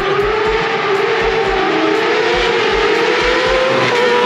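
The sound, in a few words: modified car engine revving with new exhaust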